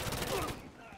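Gunfire in the video game Battlefield Hardline, a dense loud burst of rapid shots with some voice activity, cutting off into a fading tail after about half a second.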